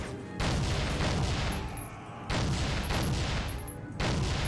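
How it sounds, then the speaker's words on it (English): Bursts of automatic gunfire and a heavy explosive blast from a grenade in the Soldier of Fortune PC shooter, loud and dense in two sustained volleys with a brief lull between. "He just stuck a grenade at me."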